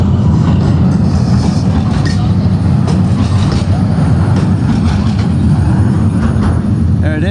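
A tram in Porto rumbles loudly and steadily as it leaves a tunnel onto a bridge used only by trams and pedestrians. Wheel and rail noise runs under a constant outdoor wash.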